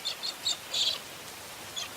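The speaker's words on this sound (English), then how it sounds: "cockatiels celebrate with a rain dance" Cockatiels call in the rain, a handful of short, shrill chirps in quick bursts, fairly faint over a soft background hiss.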